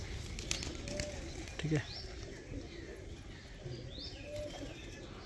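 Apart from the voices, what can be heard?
fancy pigeons cooing and flapping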